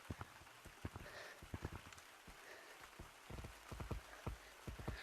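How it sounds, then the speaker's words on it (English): Rain in the Gorilla Tag video game, a faint, steady patter with scattered sharper drops tapping irregularly throughout, quiet and alone. "rain only lasts 15 minutes in Gorilla Tag, and this is like the middle stage of rain."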